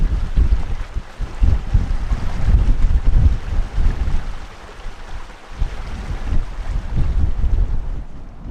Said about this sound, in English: this wind, the wind chill,